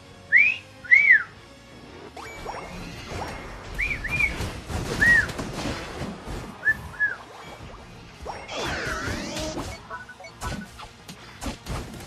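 A person whistles a series of short two-note chirps and slides, spaced out over busy background clatter and noise, with a louder stretch of mixed sounds partway through.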